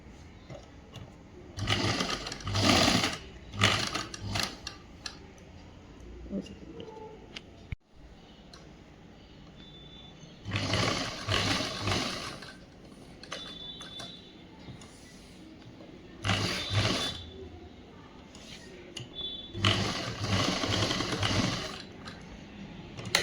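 A sewing machine stitches a boys' school uniform shirt in several bursts of rapid mechanical chatter, a few seconds each, separated by quieter pauses of handling the fabric.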